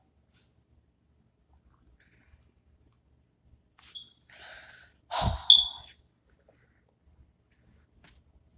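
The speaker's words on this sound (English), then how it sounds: "I have to clear my throat" A single nearby throat clearing, a short rough burst followed by a harsher cough-like rasp, in an otherwise quiet room with a faint breath before it.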